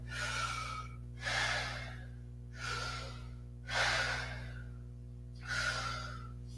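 Deep, rapid breaths during a breathwork exercise in a yin yoga session, five strong inhale-exhale cycles in a steady rhythm, close and loud over a constant low hum, with no talking.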